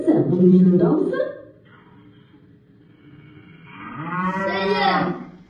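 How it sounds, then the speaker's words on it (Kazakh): Recorded cow mooing played during a kindergarten speech-therapy animal-sound game: two long, drawn-out moos separated by a quiet pause, close and clear. "Сиыр."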